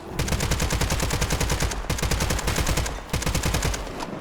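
Loud rapid automatic gunfire in Call of Duty zombie mode, rattling in long sustained bursts with two brief pauses, close and dominant throughout.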